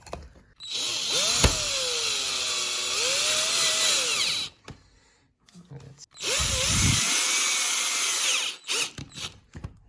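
A power drill drives screws while fitting a PVC door handle, whirring in two sustained bursts of several seconds each, with the motor pitch rising and falling, separated by a brief pause with light handling noise.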